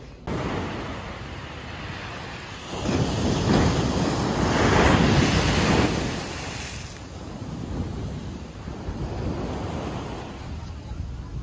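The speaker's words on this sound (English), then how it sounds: "We're at Laguna Beach right now." Ocean waves surge and wash in at Laguna Beach, swelling into a loud roar midway then easing, with wind buffeting the microphone throughout.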